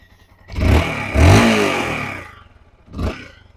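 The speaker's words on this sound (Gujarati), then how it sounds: "જોરદાર એન્જિન છે મિત્રો" A Yamaha R15 v2 motorcycle with its engine in sound condition revs up close in one long surge, then gives a second, shorter blip after a pause.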